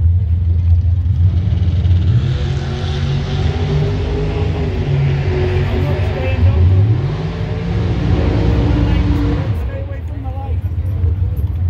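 A car fitted with a Gen 5 Whipple supercharger revs at a car show, a loud, deep engine rumble rising and falling through several throttle blips, with people talking over it.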